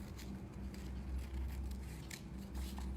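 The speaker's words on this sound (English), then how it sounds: "Be careful when you're cutting out paper," Scissors snip through paper for a tessellation craft, with repeated short crisp cuts in an uneven rhythm, close and fairly quiet over steady low room noise.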